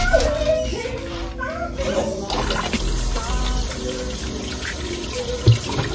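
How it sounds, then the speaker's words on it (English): A kitchen tap runs steadily as potatoes are rinsed in the sink, water splashing close by under children's chatter and voices in the room. "We're going to rinse the potatoes off."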